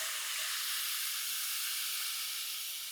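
Steady, loud hiss of a hot pan as a yogurt-and-semolina upma mixture goes in over lowered gas heat, a continuous close-up sizzle with no voices.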